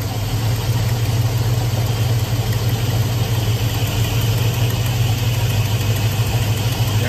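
Engine of a boxy Chevrolet running with an abnormal noise, a steady loud idle with a strong low hum and constant rattling texture, close and unchanging throughout.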